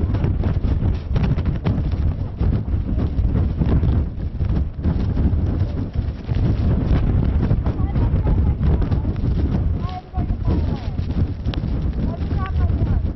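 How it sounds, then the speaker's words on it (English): Strong, constant wind buffeting a news reporter's microphone outdoors, a loud rumbling roar with gusts surging throughout and no clear pauses. "these gusts are really picking up"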